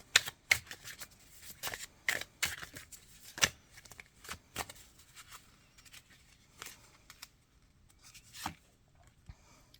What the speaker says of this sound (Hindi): अब लास्ट 3 कार्ड्स निकालेंगे हम